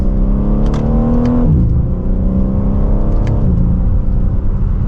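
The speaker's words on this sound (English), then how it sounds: "So let's hop into a different M3 and get this out on the road. And from second gear, here we go." A 2024 BMW M3 CS accelerating hard from second gear on a road, its loud engine climbing in pitch, dropping at a quick upshift, then climbing again, heard from inside the car.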